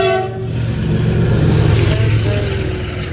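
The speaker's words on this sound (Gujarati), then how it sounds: "માલગાડી છે" A freight train rumbles past a level crossing close by with a steady heavy roar and rattling wagons, loud throughout, with faint voices in the background.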